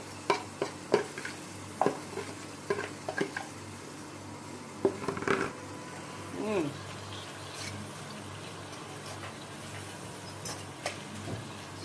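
Saltfish and onions fry in a pan for Jamaican saltfish and cabbage. A soft sizzle runs under intermittent spoon clinks and scrapes against the pan as they are stirred.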